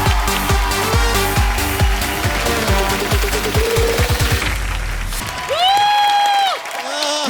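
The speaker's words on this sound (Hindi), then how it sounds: "एक बार जोरदार तालियां बजाइए" Loud, sustained audience applause and cheering fill a comedy show studio for several seconds, then give way to brief musical sting effects near the end.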